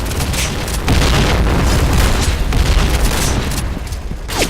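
A grenade blast in the shooter game Point Blank, heard as a loud, sustained booming roar with heavy low rumble and crackling bursts lasting several seconds, faint gunfire mixed in.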